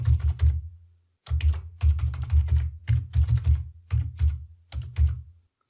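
Fingers type on a computer keyboard in several quick bursts of close, crisp key clicks, with short pauses between groups and a longer gap near the start.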